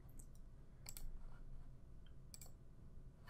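A computer mouse clicking while registering for a webinar, with a few sharp, faint clicks in quick pairs near the start and middle over quiet room noise.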